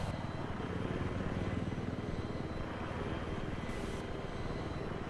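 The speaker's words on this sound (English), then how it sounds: "Yeah, there's a chopper." A helicopter in the video game Battlefield 3 gives off a loud, steady rotor-and-engine roar that holds constant for the whole stretch, with no talk over it.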